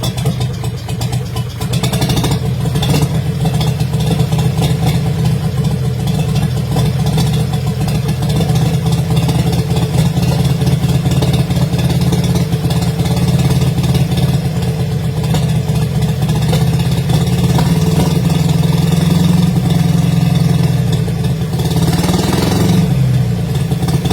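A Bedford truck, restarted after sitting unused for 20 years, runs steadily at close range with a loud, low rumbling idle and a slight rise in revs near the end.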